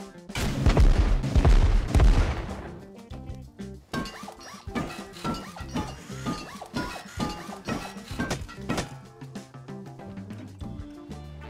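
Bursts of video game gunfire crack and boom loudly at first, then continue as rapid, irregular shots and impacts over a busy background of layered game sounds.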